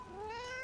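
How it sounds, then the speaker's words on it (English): A single drawn-out cat meow, clear and fairly close, rising slightly in pitch over less than a second. "Random cat."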